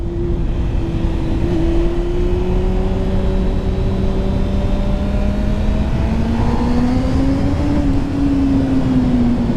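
A Honda Hornet motorcycle engine revs steadily high near 8000 rpm, a loud continuous drone that rises slightly in pitch toward the end, with no talk.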